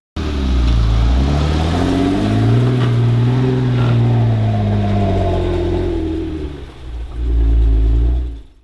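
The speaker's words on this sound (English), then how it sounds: "I just love how this exhaust sounds. Here, take a listen." A loud, deep aftermarket exhaust on a 2012 Jeep Wrangler JKU Sahara roars as the engine revs up and holds, dips briefly, then surges again before cutting off.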